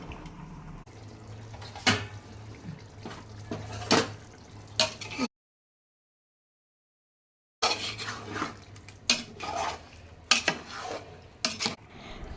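A spoon stirs Hyderabadi chicken dum biryani with fried onions in a pot. Scraping and clinking of utensil against metal comes in short bursts, with a brief total silence midway.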